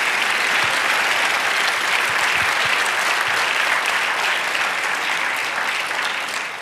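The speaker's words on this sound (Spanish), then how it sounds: "Denle un aplauso al guiador." Congregation in a church breaks into sustained, dense applause, a steady wash of clapping from many hands that holds for several seconds and fades slightly at the end.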